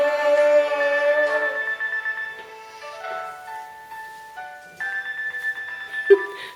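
Mobile phone ringing at a comedy concert stage show, a bright looping melodic ringtone playing loud and steady for several seconds with no talk over it.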